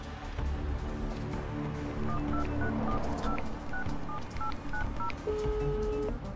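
A mobile phone is dialed in the middle of a tense action scene: a string of distinct keypad tones beeps one after another in an uneven rhythm, heard clearly over a steady, busy background bed.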